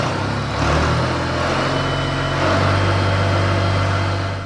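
An International 423 tractor engine runs steadily at close range, a low, constant rumble with a slight rise in pitch partway through and no voices over it.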